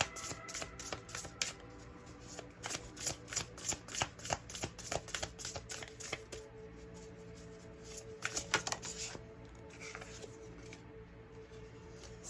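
Tarot cards being shuffled by hand, crisp fluttering riffles and snapping card bursts repeating over several seconds, close and fairly quiet, with no talking.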